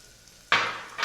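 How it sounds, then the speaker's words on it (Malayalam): Sliced onions stirred in a hot pan for a beef curry, a sudden sizzling burst as the spoon moves them, quiet before, then a second stir-fry hiss close by. "ഉള്ളി കംപ്ലീറ്റ് ബ്രൗൺ കളറായി വരുന്നത് വരെ ഇളക്കി കൊടുക്കണം"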